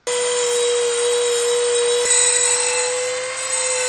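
Power tool cutting out a repair piece for a Technics SL-Q2 turntable dust cover, a loud, steady high-pitched whine with a grinding edge that holds evenly for several seconds with one brief hitch midway.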